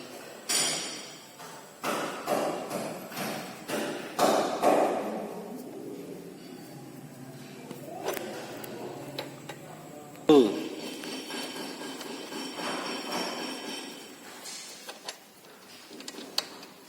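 A wrench turning counterclockwise to loosen a bolt, heard as a series of sharp metallic clicks and knocks, some close and loud, including one strong clank partway through, over a quiet room hum.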